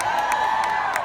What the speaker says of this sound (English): That was like a quarter of the applause that you got.